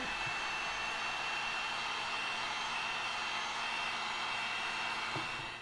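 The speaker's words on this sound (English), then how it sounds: "I've actually got the heat gun turned down." A steady, loud blowing roar of a heat gun on a lowered setting pushing hot air onto a vehicle fender flare, constant and unbroken throughout.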